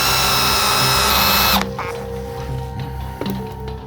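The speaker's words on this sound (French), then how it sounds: "je suis en train de finir de percer" A power drill bores into a sailboat, a loud high-pitched whirring run that cuts off after about a second and a half, leaving a quieter low hum with faint clicks and knocks.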